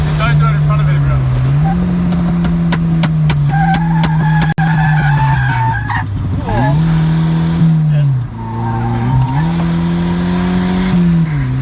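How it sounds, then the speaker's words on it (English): The rear tyres of a turbocharged Nissan Silvia S12 with a CA20E engine squeal and skid under a loud, sustained engine note that rises and falls. The tyre noise is continuous and close, with brief pops along the way. "Your tires are getting so slippery at the back."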